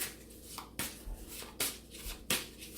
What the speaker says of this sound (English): I will shuffle the cards and ask for inspiration and for guidance for Libras in February.